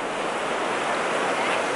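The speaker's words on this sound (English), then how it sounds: "This is the tide coming in." Ocean waves of the incoming tide at a beach, a steady close-up wash of surf hissing continuously with no pauses or voices.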